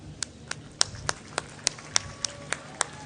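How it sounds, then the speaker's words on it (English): Sparse, separate hand claps from a graduation audience ring out one by one at a fairly steady rhythm, about ten sharp claps, close and distinct against a quiet hall. "So please let us practice our clapping."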